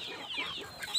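Maturing chickens on a poultry farm cluck softly in a brief burst, with a few short higher calls near the end.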